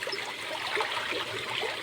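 Water flows from an opened irrigation pipe onto papaya plants, a steady close trickling and gurgling rush with no voices.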